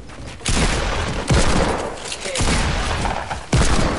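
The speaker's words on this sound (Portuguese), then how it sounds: "estou a levar tiros nos três" Bursts of gunfire erupt in a multiplayer shooter game, loud volleys starting abruptly and sustaining in dense rattling stretches with brief gaps, close and dominant.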